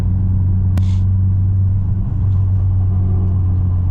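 A turbocharged 600hp Honda Civic Si engine drones loudly and steadily from close by as it builds boost, with a constant low hum and one brief sharp click early on.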